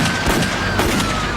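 Gunfire in a police shootout in Houston County, Georgia after a chase ends at a dead end, heard as a dense, loud stretch of overlapping cracks and bursts with several sharper peaks, no voices.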